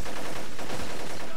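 Rapid bursts of gunfire from the PS2 shooter game Black, loud and dense with overlapping shots filling the whole brief moment, no pause between them.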